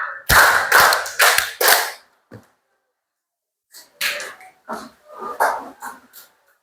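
Hands clap in short groups during a classroom concentration clapping game: a quick run of four sharp claps, a pause of near silence, then another cluster of several claps, close and crisp.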